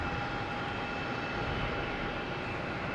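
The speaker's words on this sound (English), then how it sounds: "We have JetBlue, flight 715, and A220 heading to Buffalo" A JetBlue Airbus A220 jet at Boston Logan Airport gives off a steady, even engine roar that holds at constant loudness from a moderate distance.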